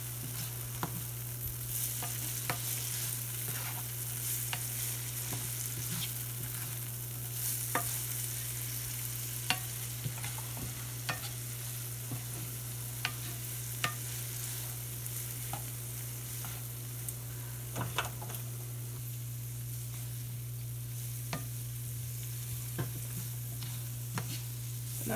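Pork carnitas meat sizzles steadily in a hot pan while a utensil stirs it, with scattered scrapes and clicks over a continuous frying hiss.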